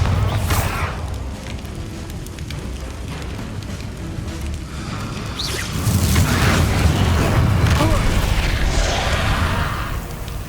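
The Bombarda blasting spell in the wizarding game Hogwarts Legacy goes off as a loud booming explosion, followed by a rolling, crackling roar of debris and fire that swells and lingers for several seconds.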